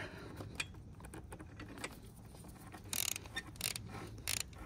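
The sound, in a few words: ratchet with swivel head and 12 mm socket on header nuts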